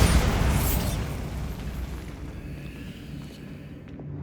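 A Bombarda spell explosion in the Hogwarts Legacy game, a loud booming blast at the start that rolls into a long rumbling, windy decay.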